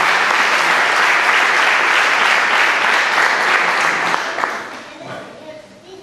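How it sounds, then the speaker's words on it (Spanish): A church congregation applauds loudly, a dense sustained wash of clapping that fades toward the end as a voice begins to speak. "Y aplausos para el Señor."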